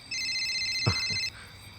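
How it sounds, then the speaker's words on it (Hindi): An incoming-call ringtone on a mobile phone rings as a steady electronic tone for about a second, close and clear, then cuts off abruptly. "अरे, भैया का फोन आ रहा है।"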